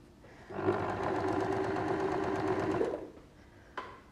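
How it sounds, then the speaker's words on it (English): A sewing machine runs a steady zigzag and straight stitch through an appliqué fox bag, one continuous loud whirring burst of about two seconds, then stopping, followed by a faint click. "a quick zigzag, a quick straight stitch"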